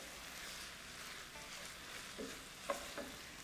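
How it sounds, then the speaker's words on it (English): Basque chicken stirred in a hot pan, a soft steady sizzle of frying with a few faint scrapes and clinks of the spoon against the pan, quiet and close, with no talk. "Stir quickly to get the flavours up from the bottom of the pan and any solid bits that are stuck."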